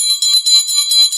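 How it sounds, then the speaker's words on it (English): A hand bell rung as a truth bell on a podcast panel, giving a bright, rapid ringing that repeats steadily and clearly, with no talk over it. "I'm ringing my bell when someone has the ring of truth."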